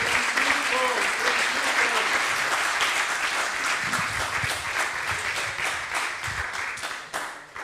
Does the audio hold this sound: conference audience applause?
yes